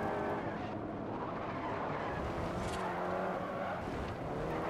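A Lamborghini Diablo engine roars continuously at high revs in the racing video game Forza Horizon, with tires squealing as it drives hard, loud and close with no talking.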